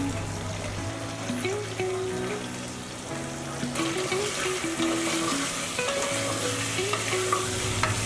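Potatoes frying in a pan as ginger garlic paste is stirred in, a steady close sizzle with stirring scrapes, set against background music.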